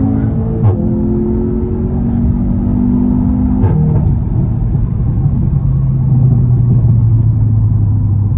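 An Audi TTS rated at 310 hp driving with its gearbox in sport mode, giving a loud, steady engine rumble with shifting tonal drones and brief rev changes that hold throughout.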